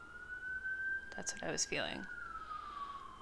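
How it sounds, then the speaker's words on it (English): A distant siren wails in a long, steady rising-and-falling tone while a person speaks briefly over it. "Sorry for that siren."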